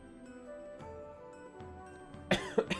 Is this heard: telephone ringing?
no